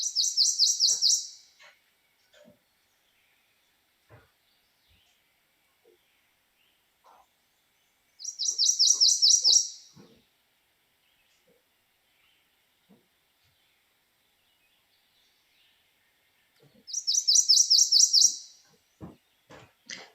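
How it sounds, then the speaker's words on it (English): A warbler sings the same one-syllable whistle repeated in quick series, three bright bursts spaced several seconds apart against a quiet background, with faint clicks between. "it's the same one syllable whistle that's repeating the whole way"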